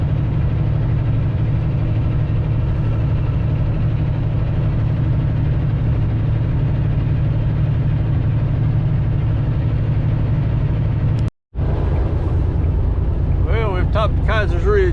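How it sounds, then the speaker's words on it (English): A deep, steady drone from an old truck engine labouring up a mountain road in Garrett County, Maryland, continuing loud and unchanging, briefly cut out near the end before the rumble resumes with light clatter. "This old truck just has to keep plugging,"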